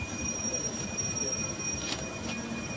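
Train wheels squealing as a train halts at a station at night, thin high-pitched sustained tones over a steady rumbling bed, fairly faint and without voices.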